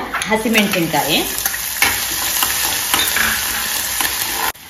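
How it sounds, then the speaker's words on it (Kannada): Mustard seeds, chana dal and urad dal sizzle loudly in hot oil, with a dense, continuous fizz and crackle, occasional stirring scrapes, and a brief tonal sound near the start. No one speaks. "ಎಣ್ಣೆ ಕಾದ್ಮೇಲೆ ಸಾಸಿವೆ ಪಟಪಟ ಆದ್ಮೇಲೆ ಕಡಲೆಬೇಳೆ, ಉದ್ದಿನ ಬೇಳೆ, ಹೆಚ್ಚಿದ"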